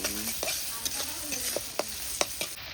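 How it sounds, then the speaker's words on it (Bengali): Ginger, garlic, onion and tomato sizzle in a pan while a spatula scrapes and stirs, giving a soft constant fry with repeated short scraping strokes close by. "আদা রসুন পেঁয়াজ টমেটো সব দিয়ে এখন কষানো হচ্ছে"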